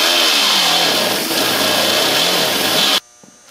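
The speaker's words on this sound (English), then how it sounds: "I'm going to take my air tool here and I'm going to trim some of this top off" Air tool trimming material on a 1998 Chevrolet S10 during a spotlight install, a loud, steady high-pitched grinding whine that runs continuously for about three seconds, then cuts off abruptly into near silence.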